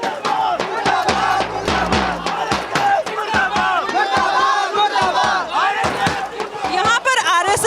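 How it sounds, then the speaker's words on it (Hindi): A crowd at a Jantar Mantar protest chants murdabad slogans in loud, rhythmic unison, with sharp shouts and scattered voices mixed into the dense chanting throughout. "यहाँ पर बीजेपी के मुर्दाबाद के नारे लग रहे हैं"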